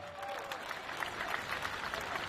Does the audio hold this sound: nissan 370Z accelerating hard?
no